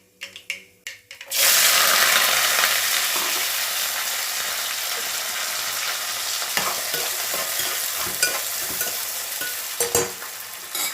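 Onion pieces dropped into hot oil with mustard seeds, dal and a dried red chili for a bitter gourd fry: a sudden loud burst of sizzling that holds steady, with scraping stirs toward the end and no voices.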